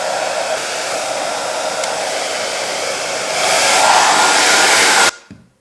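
A hair dryer that has just been cleaned and reassembled runs with a steady, loud whoosh that swells partway through, then switches off abruptly near the end.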